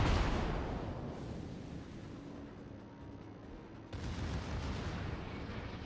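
Naval artillery from warships in World of Warships booms out in a heavy opening blast that rolls into a long rumbling decay, with a second thud near the four-second mark, loud and unaccompanied by speech.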